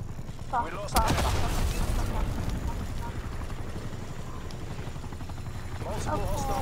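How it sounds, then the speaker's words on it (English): Attack helicopter in the Call of Duty Cold War video game: a thumping rotor drone mixed with bursts of gunfire, with voices talking over the game audio. "Hostile attack helicopter inbound."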